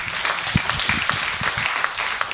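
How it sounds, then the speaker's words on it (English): Congregation in a church service applauding together, a steady crowd patter with a few sharper claps standing out, lasting a couple of seconds at moderate volume. "give God a round of applause this morning"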